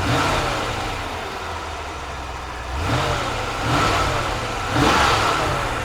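A 5.7 liter V8 engine in a 1993 Corvette convertible idling with a low rumble, rising briefly in a few throttle blips and settling back each time.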